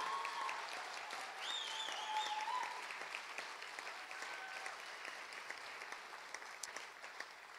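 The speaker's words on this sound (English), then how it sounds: "Let's have another round of applause for all of the candidates up here." An audience at a city council candidate forum gives the candidates on stage a round of applause, a soft, even wash of many hands heard from a distance, with no one speaking.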